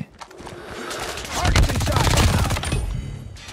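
MG42 machine gun in Call of Duty Mobile firing a long, continuous burst of rapid shots that builds in loudness midway and holds, with someone talking over it.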